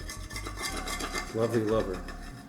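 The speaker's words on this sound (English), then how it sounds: "Scrape all that fond off." A utensil scrapes browned fond from the bottom of a pan loosened with a splash of liquid while making pumpkin risotto, a short, close rasping and scratching sound with faint metallic clinks.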